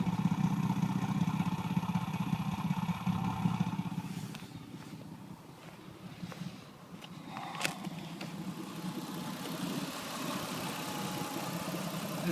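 A cold Mitsubishi Pajero 3.5 V6 24V DOHC engine idles at -6°C with a steady, even rumble, fairly quiet, with some faint clattering and background noise partway through.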